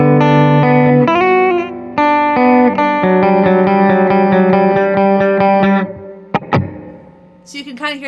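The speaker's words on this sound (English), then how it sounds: "the first mode is spring. That is that drippy surf sound that people like" Guitar through a Walrus Audio R1 reverb pedal in spring mode, giving a drippy surf-style reverb: a run of picked notes and chords with short, splashy tails, followed by a few sharp percussive hits and scrapes.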